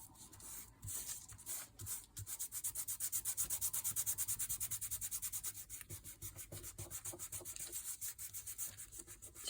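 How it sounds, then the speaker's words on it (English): Soft, steady rubbing as gold gilding is worked onto an autumn leaf, a quiet rhythmic scratchy friction of quick back-and-forth strokes that continues for several seconds, close and alone. "So I'm going to just try and rub this in a bit."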